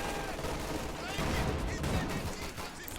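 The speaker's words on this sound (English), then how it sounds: "50 cal is firing at the Grenadiers in the center" A .50 cal machine gun fires at enemy grenadiers in the World War II strategy game Company of Heroes 2, a dense, continuous rattle of gunfire with battle noise layered throughout.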